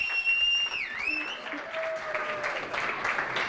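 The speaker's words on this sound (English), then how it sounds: "can we have a big round of applause, please, for the champion of the 888 main event, Mr. Jamie Geraghty!" Audience applause for the champion of a poker main event in Manchester, a steady wash of clapping throughout with a cheer or whistle sweeping over the start.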